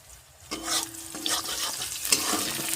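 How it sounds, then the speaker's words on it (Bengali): Onions frying in a pan for an egg curry, a steady close sizzle with scraping stir strokes recurring throughout, and a faint voice-like tone now and then underneath. "পেঁয়াজটা ভাজছি"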